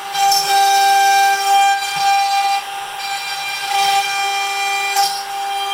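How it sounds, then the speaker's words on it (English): A machine makes the finishing cut of a truss rod channel in a wooden guitar neck, giving a loud, steady tonal whine with a constant pitch that holds for several seconds with slight swells. "I'm just doing the finishing cut here for the truss rod."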